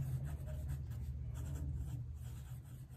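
Someone writes a value scale label by hand, a soft, continuous scratching of a writing tool over a steady low background hum, close by and with no talking.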